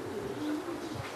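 A racing pigeon arriving at its loft gives a soft, low coo, faint and steady against a light background hiss.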